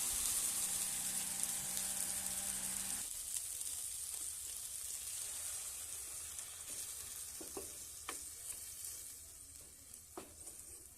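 Small fried fish in a pan sizzle loudly, then water is poured in. The hiss drops into a quieter bubbling simmer with a few scattered clicks, close and steady, with no talking.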